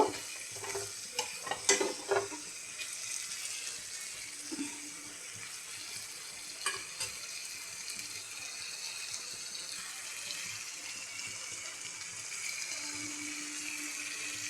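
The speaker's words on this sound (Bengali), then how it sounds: "এবারে দিয়ে এটা একটু নেড়ে নেব" Paneer curry with sour yogurt and sugar being stirred in a pan, a soft steady sizzle with a few scraping clicks from the spoon near the start, unbroken and fairly quiet.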